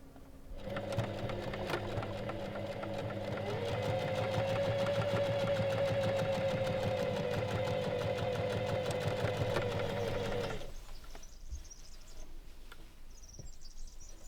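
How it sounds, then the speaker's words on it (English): A sewing machine runs in one continuous buzzing stretch for about ten seconds, edge stitching the folded sides of fabric loops for a robe, then stops and leaves quiet room noise. "edge stitch along the folded side of each loop to close them up"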